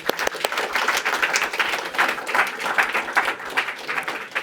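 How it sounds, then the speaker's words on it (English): An audience at an awards ceremony for final presentations at a climate hackathon gives a round of applause, a dense, steady patter of many clapping hands sustained throughout. "Round of applause for you."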